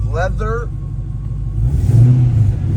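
A 1968 Pontiac Firebird's 6.0L V8 revs up loudly after a brief spoken word, rumbling deep and close as the throttle climbs.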